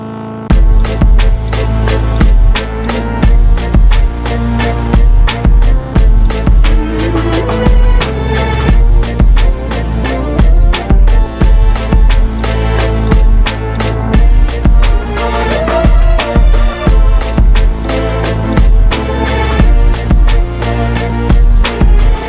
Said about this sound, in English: So don't be afraid of just getting big distorted sounds like this.